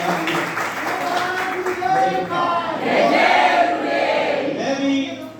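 An audience applauds at a Jain monk's Chaturmas entry ceremony, a sustained wash of clapping and crowd noise lasting several seconds, with a voice speaking over it.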